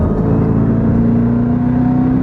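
Jeep Grand Cherokee Trackhawk exhaust heard as a steady, loud, deep drone with a whirring tone, close by and uninterrupted by speech.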